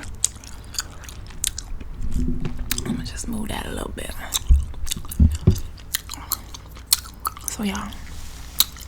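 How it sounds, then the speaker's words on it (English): Gum chewing close to the microphone in a soft-spoken ASMR setting, wet smacks and crunchy bites in an uneven rhythm, with a person talking quietly over part of it. "Since I've been eating, I ain't been chewing my gum, so here y'all go."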